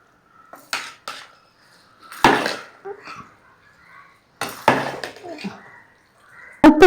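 Spoon stirring a pot of bisi bele bath, a few sharp scraping clanks against the metal pot in scattered bursts, close and fairly loud with quiet gaps between.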